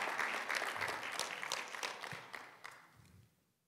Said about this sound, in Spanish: Ese aplauso parece para un equipo de fútbol.